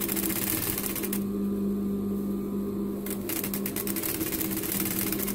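A domestic sewing machine runs steadily while stitching a pocket onto a women's bathrobe, its mechanical hum and rapid needle chatter continuous and close, with a brief quieter pause partway through.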